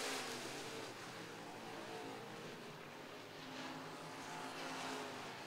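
IMCA stock cars racing at RPM Speedway, with a steady roar of several engines down the back straightaway, a continuous loud drone without breaks.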